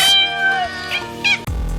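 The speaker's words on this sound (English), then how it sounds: "Also, there are cats. Lots of cats." Cats meowing in a Slavic folklore metroidvania video game, several clear, loud, drawn-out meows in quick succession, followed by a low thud at the end.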